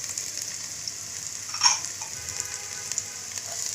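Chopped onion and garlic fry in a pan with a soft, continuous crackling sizzle, broken by one brief louder flare of spattering midway, and no voices present.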